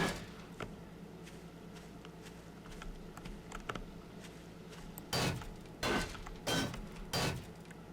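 A hammer strikes metal spikes during repairs in the game 7 Days to Die: faint scattered taps at first, then four loud, evenly spaced metallic clanks close up near the end.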